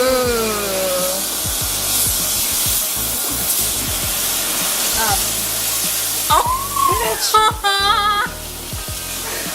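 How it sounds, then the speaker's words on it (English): Burger patties sizzle in a grill pan with a steady hiss under lively voices and chatter, a person exclaiming briefly near the end. "While the patties are cooking on the other side"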